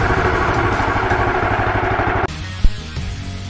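Running 420cc rat rod go-kart engine during break-in, a close, loud, rhythmic idling chug that cuts to a lower, quieter idle midway, with a single knock near the end.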